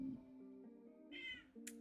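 A pet cat meows close by, a single drawn-out meow with a rising tonal cry near the end, no talking heard.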